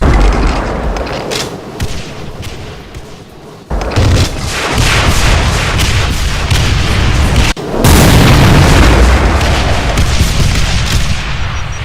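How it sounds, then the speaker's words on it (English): Explosive minigun fire and a barrage of straight rockets in a Doom mod, a dense, continuous roar of rapid blasts and booms, loud and close, with brief cuts between bursts and no talk. "It has the explosive minigun, the barrage of straight rockets,"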